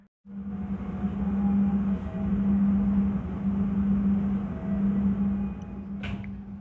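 The Lodaya Malam passenger train, leaving Bandung station for Solo Balapan on its final run, gives a steady, loud rumble with a sustained low hum heard from on board, and a short sharp clatter near the end.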